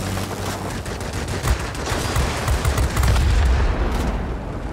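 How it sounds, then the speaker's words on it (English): Heavy VYA anti-tank cannons on an IL-1 Sturmovik attack aircraft fire in World of Warplanes, a dense, loud, continuous barrage of rapid booming shots with no talk. "These are technically the anti-tank guns of the Sturmovik series, or rather intended. VYAs are very big guns."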